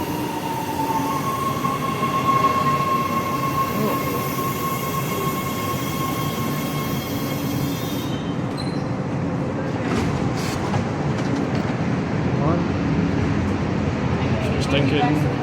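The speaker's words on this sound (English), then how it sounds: "old school silver American metro train." An old-school silver Los Angeles Metro train rumbles steadily nearby, its broad roar carrying faint high wheel squeals and tonal whines before the sound grows rougher and more clattering partway through.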